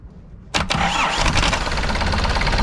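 A 1000 kg delivery van's engine turns over with a brief starter whine, then fires and settles into a steady, loud idle recorded close.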